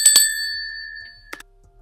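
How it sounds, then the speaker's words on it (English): A bright notification bell sound effect rings twice quickly, leaving a sustained metallic ring, followed by a softer double chime; otherwise near silence. "hit the notification bell while you're at it"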